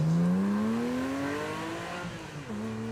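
An Aston Martin GT4 with over 400 horsepower accelerates away at a supercar event, its engine note climbing steadily through the gears and fading as it pulls off alone.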